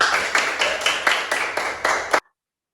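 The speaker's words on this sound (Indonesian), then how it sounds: "Tepuk tangan." A classroom applauding in a rhythmic pattern, about eight even bursts of clapping close together, ending abruptly into silence.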